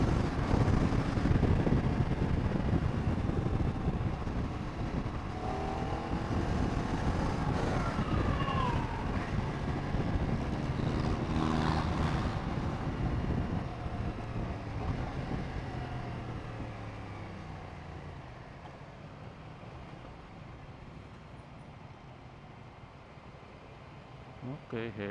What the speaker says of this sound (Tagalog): Okay, heavy traffic.